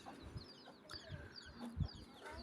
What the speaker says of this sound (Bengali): তিন চারটা বাচ্চা একটু বেশি বড় ওগুলা হচ্ছে টাইগার মুরগির হবে আর বাকিগুলো হচ্ছে এক সাইজের ওগুলো হচ্ছে দেশি মুরগির বাচ্চা